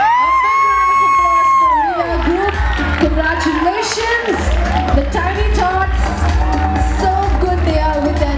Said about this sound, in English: clap really loud for Rhea Group